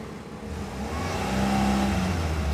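Car engine revving steadily on a slope while the driver holds it with accelerator and clutch, a close, low, sustained hum that rises slightly in pitch and loudness.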